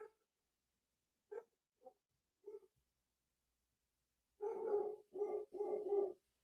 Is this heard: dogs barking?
yes